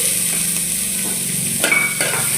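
Onions fry in hot oil in a pot for a spicy Bangda fish sambar, giving a steady close sizzle with occasional stirring clinks and scrapes, no voices.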